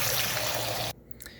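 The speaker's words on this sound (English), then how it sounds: "We'll go ahead and add in some water and we'll go ahead and blend it up." Water pours into a blender jar of kale for a smoothie, a loud close rushing stream that stops abruptly, followed by a couple of faint knocks.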